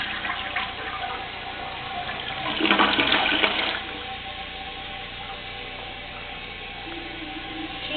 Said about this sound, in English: It's a very weak flush, just to let you guys know.